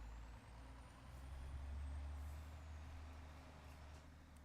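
Truck air brakes in Farming Simulator 22, a heavy rig engine rumbling low and steady with a faint high hiss line above, swelling slightly mid-clip then easing off, no talk.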